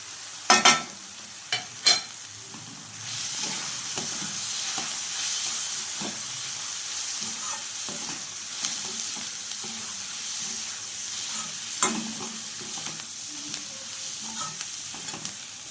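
Onions fry with chilli and turmeric powder while a spoon stirs them, giving a steady, loud sizzle with scraping strokes. A few sharp knocks of the spoon come near the start and one more near the end, with no voices.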